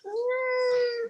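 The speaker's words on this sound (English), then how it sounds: "Oh, sorry, that's my cat." A house cat gives one long, clear meow, close and fairly loud, with a steady drawn-out tone lasting about a second and no talking over it.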